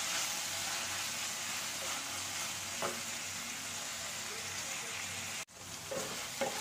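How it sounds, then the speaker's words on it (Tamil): Curry leaves and green chilies sautéing in oil for egg curry, a soft steady sizzle with occasional spoon scrapes and a brief dropout before the frying resumes. "கருவேப்பிலை பச்சை மிளகாய் போடுறேன் நல்லா சேர்ந்து கொஞ்சம் நல்லா வதங்கட்டும்"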